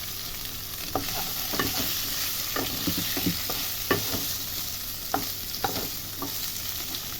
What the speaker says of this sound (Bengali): এবার এটাকে সুন্দর করে নেড়ে চেড়ে আমি একটা তরকারি করে নেব